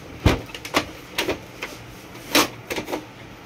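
An Epson L8050 printer handling its tray and starting a print, a string of close clicks, thumps and short mechanical whirs at uneven intervals, no voice.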